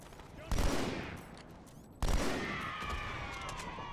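Battle rifle bursts in Halo 2 crack out in two loud volleys, each followed by a long ringing decay amid busy game ambience.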